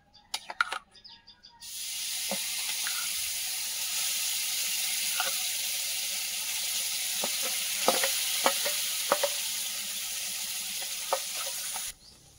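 Whipped milk cream cooking down in a wok for ghee: a steady, continuous sizzle that starts suddenly and runs on, with scattered small clicks and faint chirps over it.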